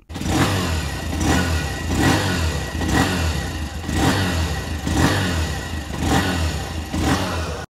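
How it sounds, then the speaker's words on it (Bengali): A 2025 Bajaj Platina 110 Fi motorcycle with a new fuel-injected engine runs nearby, its exhaust putting out a loud steady thump that swells in regular rev surges about once a second, with no talk over it. "চলুন সবার আগে এর ইঞ্জিন ও এক্সস্ট সাউন্ডকে আপনাদেরকে শোনায়"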